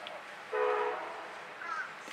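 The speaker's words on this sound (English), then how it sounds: "That sounded like a train whistle." A distant train whistle sounds in two short tonal blasts, the second higher and fainter, over low background noise.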